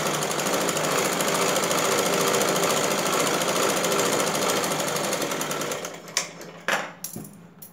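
A sewing machine runs continuously at a steady fast rhythm while stitching a double seam on a blouse, then slows into a few short, separate bursts of stitching near the end.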